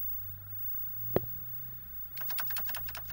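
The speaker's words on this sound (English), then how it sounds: "constantly typing question marks and carriage returns" Fingers tap a computer keyboard in a quick run of light clicks, repeatedly hitting question marks and carriage returns, after a single sharp knock and a stretch of low hum.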